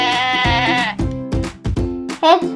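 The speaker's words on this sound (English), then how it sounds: "G for goat." A goat bleats in a bright, wavering voice, two or three calls in close succession, loud and close, with no talk over it.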